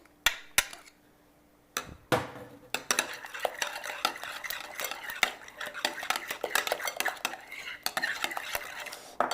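Mayonnaise and Dijon mustard are stirred together in a bowl for macaroni salad: irregular utensil scrapes and clinks against the dish, close and fairly quiet, with a few sharp taps near the start.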